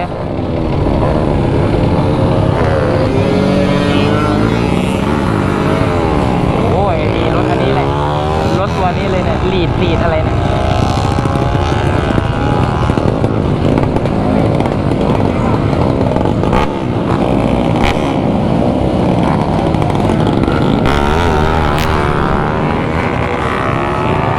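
A Kawasaki KR150 two-stroke motorcycle roars loudly and continuously at a racetrack, its engine revving and shifting pitch throughout as voices talk over the noise.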